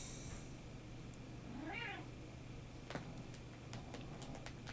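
A cat gives a single short meow, faint and somewhat distant, over low background hiss and a few small ticking clicks, with no speech.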